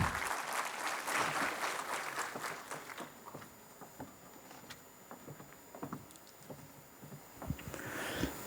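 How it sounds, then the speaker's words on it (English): A conference audience at a Malabar Group corporate event gives a round of applause, a dense wash of clapping that swells at the start and thins into scattered claps toward the end, with no talking over it. "Let's have a big round of applause, everyone."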